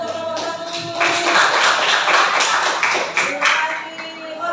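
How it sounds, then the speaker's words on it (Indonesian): A classroom group claps briefly for a team of students, a short burst of hand claps with a voice speaking alongside. "berikan tepuk tangan untuk kelompok 1"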